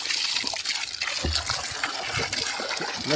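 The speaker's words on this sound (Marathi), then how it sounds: "मस्तपैकी असा पाणी भरण्याची तयारी" Water gushes steadily from a pipe at a borewell, filling a container with a continuous rushing, splashing flow close by.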